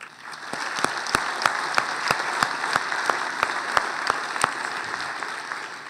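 Conference audience applauding at an opening session, a moderate-sized crowd clapping with distinct individual claps standing out in a fairly regular rhythm, sustained for several seconds.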